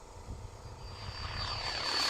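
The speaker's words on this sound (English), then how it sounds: "hey, Fred, what kind of new RC plane do you have?" An RC plane used as a drone buzzes overhead in a war zone, its engine drone steady and growing gradually louder as it approaches, with no talk.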